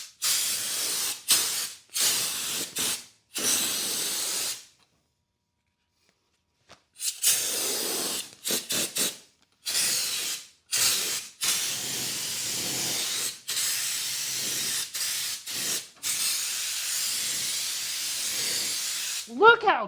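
Turbo paint spray cans hiss in repeated bursts while spray painting a budget Chevy Blazer truck, loud close sprays of a second or two separated by short pauses and one longer silence.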